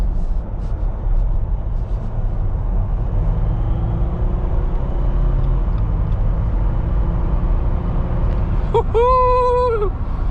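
A 2020 Jeep Wrangler 3-liter EcoDiesel accelerating onto a highway, a steady loud drone of engine and road noise heard from inside the vehicle, with a rising whine near the end.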